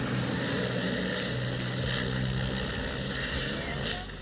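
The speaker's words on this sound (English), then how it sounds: "This helicopter was supposed to deliver the president of Bolivia, Evo Morales, but malfunctioned immediately after takeoff." Helicopter malfunctioning just after takeoff, its engine and rotor droning close by in a steady throbbing roar with rhythmic pulsing, holding loud before easing slightly at the end.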